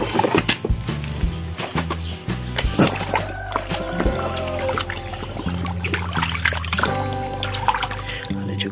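Water sloshes and trickles steadily as toy cars, a bulldozer and a racing motorbike are washed, with clattering plastic knocks and drips close up throughout.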